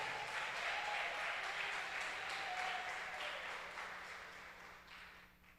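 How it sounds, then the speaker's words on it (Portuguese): A church congregation applauds together during a worship service, a steady wash of many hands clapping that stays strong at first, then gradually thins and fades toward the end, with no talking over it. "Dê um aplauso ao Senhor por isso."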